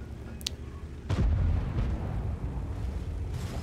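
A high-explosive shell fired at a tank in a tank combat video game lands with a loud, close boom and a rumbling blast tail, preceded by a brief sharp ping.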